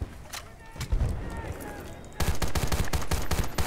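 Rapid gunfire from a Battlefield: Bad Company 2 multiplayer match, scattered shots at first and then a dense, loud burst of repeated automatic fire in the second half, with a voice talking faintly underneath.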